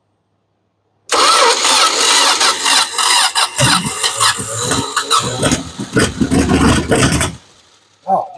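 An old Dodge Aspen that has been sitting cranks for a moment, then catches and runs loudly up close, roaring unevenly before cutting out near the end; a man briefly exclaims.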